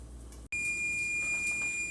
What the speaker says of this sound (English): I'll see you whenever the timer goes off.